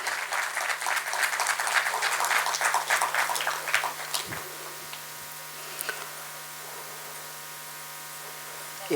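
Audience clapping at a state-level farmers workshop, dense and steady for about four seconds before thinning to a few scattered claps, with a persistent electrical hum underneath.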